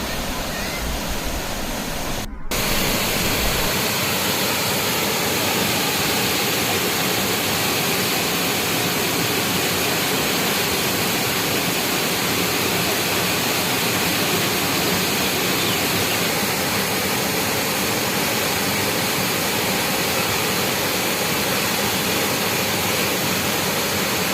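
Thalakkuthu waterfall near Oddanchatram roars with a steady, dense rush of falling water, loud and unbroken throughout, after a brief jolt at the start.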